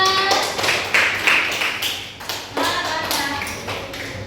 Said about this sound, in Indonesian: Tepuk tangan untuk kelompok 11.